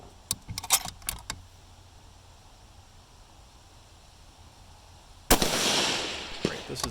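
A rifle fitted with a Shepherd DRS 6-24x50 scope fires one loud shot of GMX hunting ammunition at a 300-yard range. Several faint clicks of handling come first, and the sharp crack trails off in a long rumbling echo.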